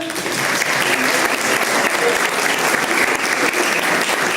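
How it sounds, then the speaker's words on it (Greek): An audience at a New Year pita-cutting event claps steadily, a loud, dense wash of applause that holds evenly throughout with no break. "Νομίζω το δεύτερο χειροκρότημα θα είναι ακόμα πιο σημαντικό."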